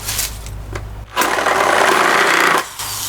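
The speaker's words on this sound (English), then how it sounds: "See if I can drill it a little better now." Power drill bores into a wooden board laid flat on a surface for a Christmas village display build: a steady, loud whirring burst of about one and a half seconds, close up, after a brief quieter pass.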